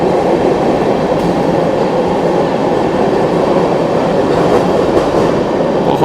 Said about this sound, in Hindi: फाइनली यहाँ पर पटना आनंद विहार स्पेशल ट्रेन को हम लोग ओवरटेक कर रहे हैं